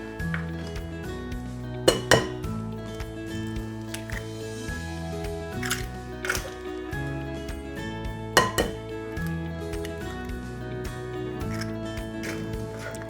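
Four eggs cracked one after another into a bowl for fudge brownie batter, giving sharp shell taps and clinks against the bowl at irregular intervals, close and clear in a quiet kitchen.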